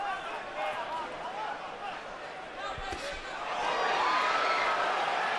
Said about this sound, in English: Crowd oohs and ahs as again Canelo lands the left